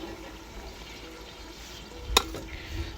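Mutton cooking in a pot on an outdoor farm fire being stirred: a soft simmering sizzle under one sharp scrape of the spoon against the pot, then quieter stirring noises.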